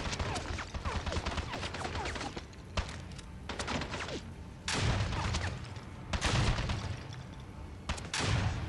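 Gunshots in the video game 007 Blood Stone, a string of sharp, punchy shots and thuds at uneven intervals, with heavier blasts near the end over a busy low background.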